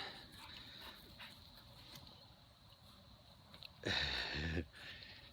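A dog that has cut its tongue sniffs softly against faint background noise, then lets out a brief, louder whimpering whine near the end, heard up close and alone.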